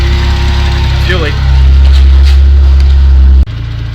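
An Isuzu NPS truck engine idles loudly and close with a deep, uneven rumble from a misfire, ending in a sudden drop near the end.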